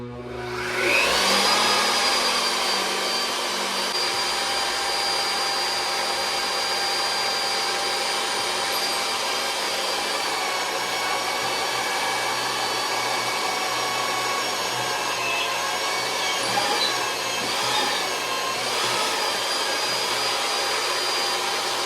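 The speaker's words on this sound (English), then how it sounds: "let's see how it cruises with some reverse gravity drilling." A Vevor D8860 magnetic drill whirs up and runs with a steady high-pitched whine for a long stretch, with slight shifts in pitch as it bites into steel.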